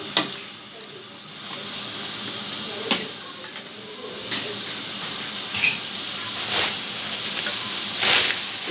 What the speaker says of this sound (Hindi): ताकि इस भाप में थोड़ा सा ये उबाल आ जाए अच्छी तरीके से